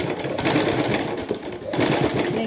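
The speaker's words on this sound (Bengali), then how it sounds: "এখানে ডাবল সেলাই দিয়ে দিলাম।" A sewing machine double stitching a band collar runs fast and steady throughout, a close continuous mechanical whirr with rapid needle ticks and a brief dip midway.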